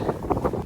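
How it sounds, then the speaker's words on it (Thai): Strong gusting wind buffets the microphone outdoors on a chilly mountain at Mulayit, a brief burst of low, uneven rumbling thumps with no talk. "ลมแรงมากเลยอ่ะ"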